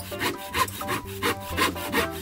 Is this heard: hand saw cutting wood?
yes